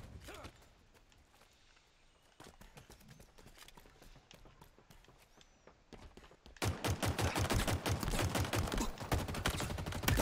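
Rapid pistol fire in Halo Infinite, a fast run of sharp shots that grows loud and dense in the second half after sparser shooting and movement sounds.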